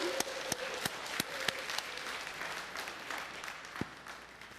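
Church congregation applauding during a New Year holiday service, a faint, distant patter of many hands clapping steadily, with a few sharper individual claps standing out.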